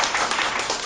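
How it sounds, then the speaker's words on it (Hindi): A church congregation at a Christmas service breaks into brief, steady applause, many hands clapping at once in a close, even patter. "इसलिए हम प्रभु यीशु के लिए तालियां बजा दें।"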